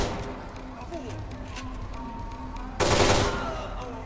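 Gunfire from the video game Kane and Lynch 2, sustained rattling bursts under a steady rumble, ending in a loud louder wash of shots near the end, with a voice talking over it.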